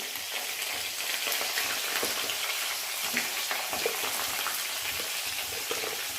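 Urad dal and green chillies frying in hot oil give a steady, close crackling sizzle, even and unbroken, with no voices.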